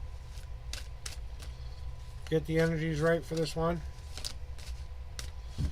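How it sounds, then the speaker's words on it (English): Tarot cards are shuffled by hand in a series of short, crisp riffling bursts, fairly close and quiet, and a voice briefly talks over them midway. "Let me do a cleansing shuffle."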